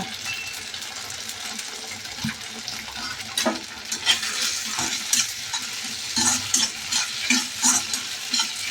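Red chili being stirred and fried in a pan, with a steady sizzle throughout and a run of louder scraping stir strokes in the second half, close up and with no talking.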